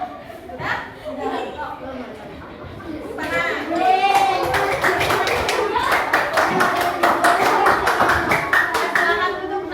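Children in a primary school classroom break into a burst of rhythmic group hand clapping, loud and close, with kids' voices and chatter mixed throughout and a teacher speaking.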